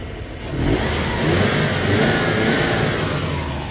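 A warmed-up Subaru EJ207 engine runs close by and is revved, its note climbing from idle to a sustained higher drone before easing back slightly, with no voices.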